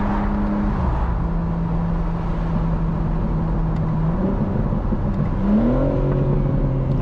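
A 2025 BMW M4 Competition Convertible facelift with a ZF Steptronic automatic drones loudly from close by as its engine holds a steady tone, then climbs in pitch when it accelerates near the end.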